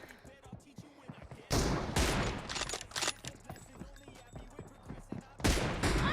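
Bursts of gunfire from an online video game match, with loud shots clustering around the second-and-a-half mark and again near the end, over a steady background of rapid game sounds.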